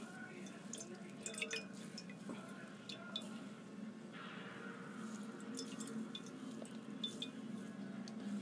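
Herbal tea rinse drips and squishes quietly as it is squeezed out of thick locs, with soft, uneven wet patters close by against a low hum.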